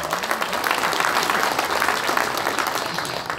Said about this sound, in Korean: 여러분 동의하시면 박수 한번 보내주세요